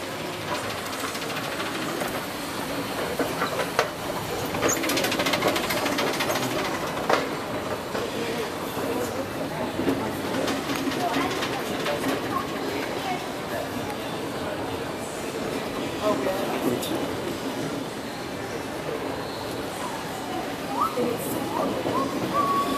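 Steady mechanical rumble and rattle of an Otis escalator running in a busy shopping mall, continuous and fairly loud with crowd noise and voices in the background.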